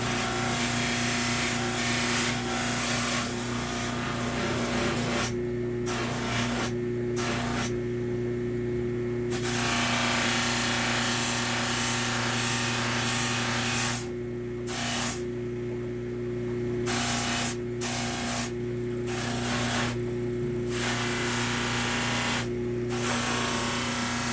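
A loose, unstitched muslin polishing wheel buffs a Colt 25 pistol for nickel plating, giving a steady motor hum with a tonal whine and scratchy friction noise, broken by several brief pauses and gaps.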